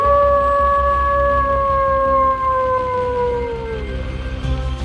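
A drawn-out wolf howl rings through the night in a horror video game set at a motel, rising and then slowly sliding down in pitch, loud and steady over a low rumbling backdrop.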